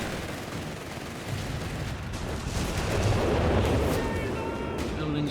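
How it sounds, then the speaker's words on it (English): Buildings blowing apart under artillery fire in a Company of Heroes 3 match, heard as a continuous dense rumble of blasts and crackling debris that swells louder toward the middle and stays heavy to the end. "Buildings are exploding."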